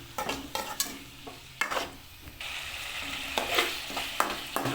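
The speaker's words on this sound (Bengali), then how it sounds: "কিছুক্ষণ এইভাবে কষে নেব চিকেনটাকে।" Chicken sizzles in a hot pan while being stirred and scraped, close and continuous frying with repeated spatula strokes.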